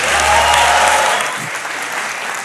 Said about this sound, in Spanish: Aplausos también para él.